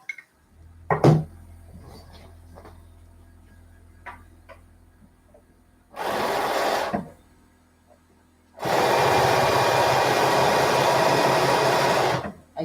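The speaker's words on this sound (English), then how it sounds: "I hear the compressor. It's going." An air compressor in a quilting room starts up in two bursts, a short roaring run followed by a longer steady loud hum, after scattered faint ticks and clicks in a quiet space.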